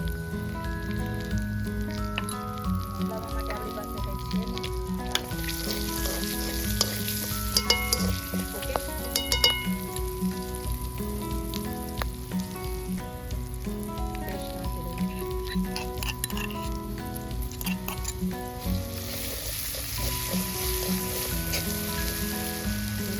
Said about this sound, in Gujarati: આપણે મરચી નાખી દઈએ ઓકે એટલે તતડી જાય